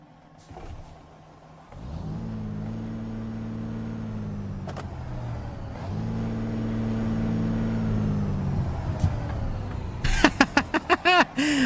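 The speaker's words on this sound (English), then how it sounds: "I'm not a fan of the exhaust rattle. I don't mind the big cam. I love the Detroit diesel, the DD60." A Detroit Diesel DD60 truck engine in American Truck Simulator idles, then rises into a steady, loud droning pull that builds gradually, ending in a burst of rattling and clattering.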